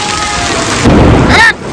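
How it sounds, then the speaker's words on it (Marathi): Dense, loud hiss of heavy unseasonal rain pouring close by in Dharur, swelling in intensity partway through with a brief tonal sound before easing slightly. "एवढा मोठा फार पाऊस आहे लिमिटच्या बाहेर पाऊस"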